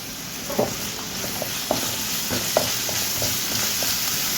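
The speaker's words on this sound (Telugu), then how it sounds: "అలాగే కరివేపాకు పచ్చిమిర్చి వేయించుకుందాము" Curry leaves and green chillies frying in hot oil, a continuous crackling sizzle punctuated by several sharp spatula taps and stirs against the pan.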